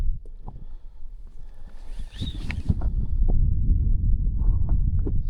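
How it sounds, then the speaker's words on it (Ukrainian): Wind gusts buffet the microphone on a zander fishing outing, a low, rumbling roar that swells and grows steadier and stronger toward the end. "Вітер був тих, це знову почав дути"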